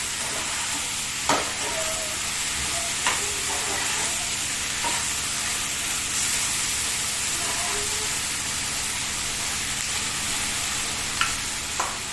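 Red and green chilies sizzling and frying in a pan for sweet and sour arbi, a steady loud hiss throughout with occasional soft scrapes and knocks of stirring.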